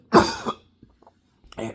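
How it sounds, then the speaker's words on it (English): A man with damaged lungs coughing once, a loud, harsh, close burst, followed by a faint quieter rasp and another rough cough at the end, with near silence between. "I still have a cough that I'm sure you guys have heard in my videos."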